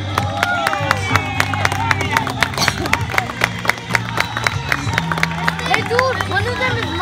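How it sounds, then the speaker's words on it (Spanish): A crowd claps and cheers for a youth under-13 football player at a team championship celebration, steady loud applause with sharp handclaps and a murmur of voices throughout. "Fuerte aplauso para Christopher Pineda"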